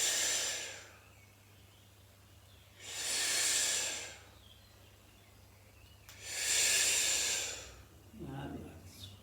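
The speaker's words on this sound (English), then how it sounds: "So stay with the breathing again as we breathe out." Slow, deep breaths during a Pilates hip exercise: three long airy exhalations spaced a few seconds apart, close and clear, with a softer breath at the end.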